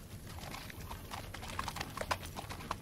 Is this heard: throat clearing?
no